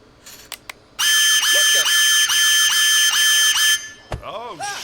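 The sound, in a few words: smoke detector alarm in bathroom, from video game Unheard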